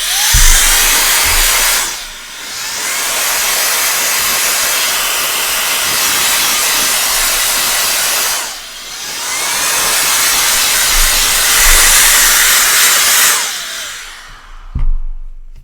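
A VSGO electronic air blower blasting air to clean a camera, a loud, close, high-pitched whirring rush that runs in three long bursts, dropping off briefly between them, with no one talking.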